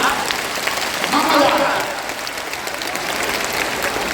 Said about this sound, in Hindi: अगर बुझाता तो ताली जोर से बजता ना